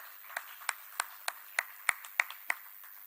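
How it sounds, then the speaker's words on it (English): A single person claps at a steady rhythm, about eight claps in three seconds, close and fairly quiet. "With a round of applause, let's appreciate and welcome to the podium Miss Mary Joyner."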